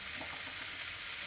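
Vetki fish with pui stems fries in a pan over medium heat, a brief, soft, steady hiss of gentle sizzling, faint and without speech.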